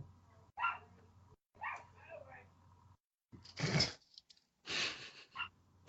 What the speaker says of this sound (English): Shout out to the background dog.